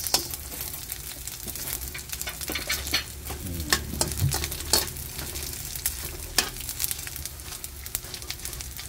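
Boneless dilis anchovies fry in a pan and get stirred, a steady close sizzle broken by repeated scraping strokes and clatters, with no talking.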